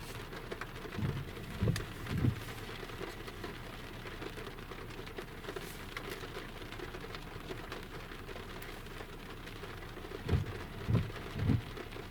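Steady moderate rain falling outside a parked car, a constant hiss with a few low thumps and knocks near the start and end.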